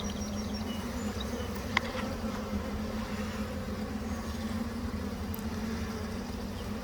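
Honey bees swarm around a half-deep mating cube in a dense, steady buzz of many wings that stays loud and close throughout, with one brief tap.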